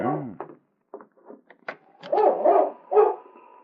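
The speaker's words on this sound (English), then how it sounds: "he could hear King barking" A dog barks outside the rear door of a cabin in an old Yukon radio drama, giving a few sharp, close, muffled barks that end in a run of louder yelps.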